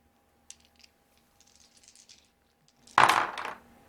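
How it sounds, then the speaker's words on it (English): Dice tumbling onto a table during a solo tabletop board game, a short loud clattering burst after a few faint light clicks. "Normally I wouldn't have all these dice so crowded around the action, but I'm trying to roll so that you guys can see the roll."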